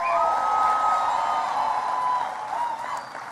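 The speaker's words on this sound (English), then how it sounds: "Give him a big round of applause." Convention crowd at the National Action Network applauding and cheering for Reverend Al Sharpton, a steady, loud roar of clapping and whoops filling a large hall, fading slightly near the end.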